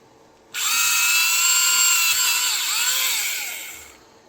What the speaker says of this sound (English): I drilled that pretty good.